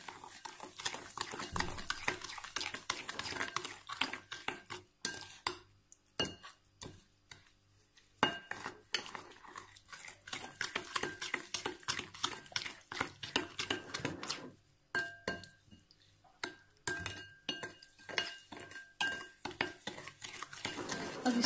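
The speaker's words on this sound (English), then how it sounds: "okay, so mix well" Eggless cookie dough being mixed with powdered sugar in a bowl: a utensil clinks and scrapes against the bowl in busy, irregular bursts, with a few brief pauses, close and fairly loud throughout, and no one talking.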